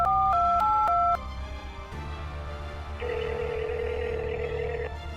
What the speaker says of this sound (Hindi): अपना फोन निकाल कर किसी को कॉल करने